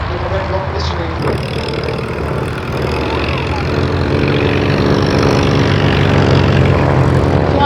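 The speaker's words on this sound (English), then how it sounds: "Flying the silver aeroplane is Bob Morecambe, a local pilot." Beech 18 propeller aircraft flying at an airshow, a loud steady piston-engine drone with a propeller buzz that swells slightly as it passes, heard under a commentator talking over the public address.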